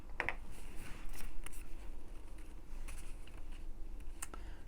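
Scissors snip through a paper tag for a Christmas junk journal, a few quick close crisp cuts and paper rustles against a quiet room, with no voices.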